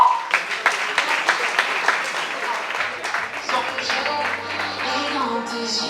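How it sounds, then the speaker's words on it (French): A crowd claps steadily at close range while a voice speaks over the applause, which continues as music begins. "Est-ce que vous pouvez applaudir bien fort pour Maître Christian?"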